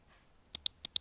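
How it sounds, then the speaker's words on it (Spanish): Computer mouse double-clicked twice in a quiet room, two quick pairs of sharp, faint clicks close to the microphone. "doble clic"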